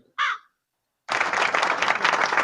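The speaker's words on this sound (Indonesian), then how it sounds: "Terus ini suara gagak." Crow cawing sound effect played from a Taffware V8 sound card: one short harsh caw near the start, then silence, then a loud sustained burst of broadband noise like clapping applause.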